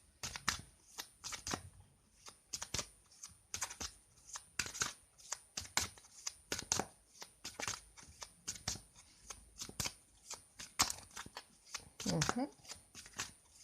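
Tarot cards being shuffled by hand make a run of quick, crisp papery flicks and riffles in an uneven rhythm, close and fairly soft, with a voice speaking over them at times.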